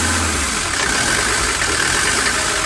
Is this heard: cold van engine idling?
yes